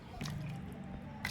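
Soaked tamarind pulp squeezed by hand with added water: wet squelching squishes and small drips, close and quiet, with a louder squeeze at the end.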